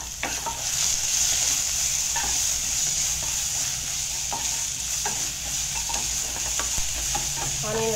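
Onion stir-fries in hot oil with mustard seeds, urad dal, green chili and asafoetida, giving a loud, steady sizzle close up, marked by light scrapes and taps of a spoon stirring throughout.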